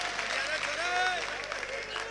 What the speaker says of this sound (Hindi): अरे मिलकर तालियां बजाओ